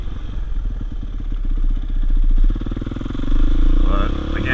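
Honda CRF 450X supermoto motorcycle on the road, its engine a loud, continuous close-up drone that swells and eases as the bike accelerates, with wind rumble throughout.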